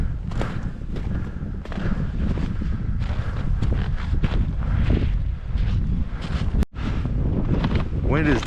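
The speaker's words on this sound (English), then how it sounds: "Wind is definitely picking up now." Strong gusting wind near the snowy winter summit of Mount Washington in New Hampshire's White Mountains, loud buffeting roar against the microphone with heavy low rumble, a person speaking over it.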